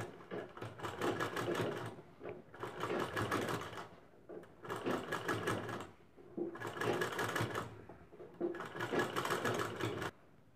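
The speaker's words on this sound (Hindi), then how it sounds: "इन्हीं चुन्नटों को दोहराते हुए यहाँ पर एक सिलाई हमें चला लेना है" Sewing machine stitching gathered pleats on a handmade potli bag, running in five steady bursts of close, rapid needle chatter separated by short pauses, with no talking.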